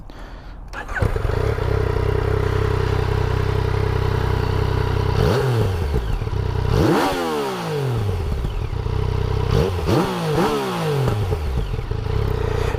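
A 2016 Yamaha XSR 900 motorcycle rumbles at a steady idle, then revs in several sharp bursts whose pitch rises and falls, loud and close.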